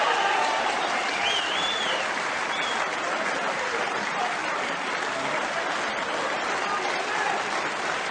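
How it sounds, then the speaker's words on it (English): A snooker crowd at the Crucible Theatre applauds and cheers without pause, a thick, sustained roar of clapping and voices filling the hall. "the crowd are going absolutely crazy here at the Crucible Theatre"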